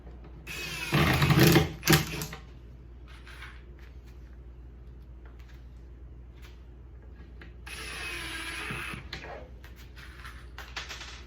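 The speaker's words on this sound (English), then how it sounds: "all I got to do is drive home my screws." Power driver sinking screws into pocket holes while assembling a wooden shop cabinet, with a loud close burst of whirring and wood friction near the start and a longer, softer run later, quiet room tone between.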